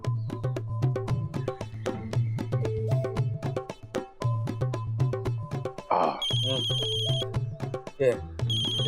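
A mobile phone rings in a house with a repeating electronic ringtone of bright, regularly pulsing tones, moderately loud and close, followed by a short higher beeping pattern near the end, with no talk over it.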